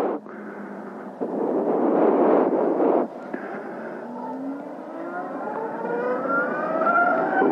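A Zero SR/S electric motorcycle accelerates with a rising electric motor whine that climbs steadily in pitch, under rushing wind noise that is heavy early on and then thins out.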